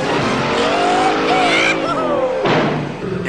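In a Police Academy scene, a car speeds away with its tires squealing loudly, the screech wavering in pitch over a rushing engine roar before cutting off and then swelling again.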